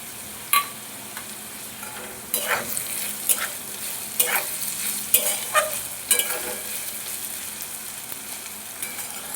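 Fried potatoes stirred in a hot oiled pan as ginger goes in, a steady close sizzle broken by a series of sharp spatula scrapes and clinks, busiest in the middle stretch.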